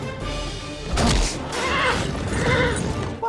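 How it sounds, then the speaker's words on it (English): Horse neigh sound effect standing in for the cries of lizard creatures during a fight scene in the animated film Bionicle: The Legend Reborn, a loud whinnying burst rising over busy battle noise and music. "Why does lizard creatures sound like horse?"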